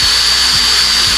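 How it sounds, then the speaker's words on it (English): A drill spins a wire bristle brush against a rusty cast iron skillet, giving a loud, steady, unbroken whine with a harsh scrubbing hiss throughout, close up and alone. "Now I got one of these little bristle brushes on a drill, and this makes pretty quick work of getting in there and getting the rust out of it."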